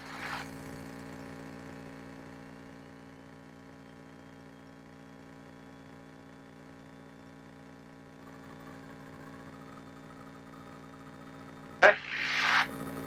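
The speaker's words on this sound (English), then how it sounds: "Throttle 1700 RPM." A Cessna 172's engine held at 1700 RPM for a run-up check, a steady, even, mid-pitched drone with a brief louder burst of noise near the end.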